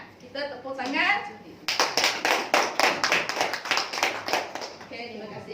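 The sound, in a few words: audience clapping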